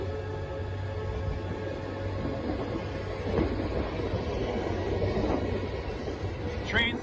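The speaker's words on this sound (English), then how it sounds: "Trains heading east." Trains pass along a railway by a highway with a continuous low rumble and clatter of wagons, steady and moderately distant, broken by a few faint squeals and knocks.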